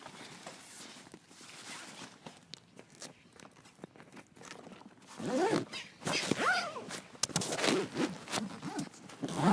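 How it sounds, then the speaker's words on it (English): A golf travel bag is zipped up with a long run of close, scratchy zipper strokes that grow louder and more forceful partway through. Handling rustles are mixed in and there is no talk. "and we zip her up"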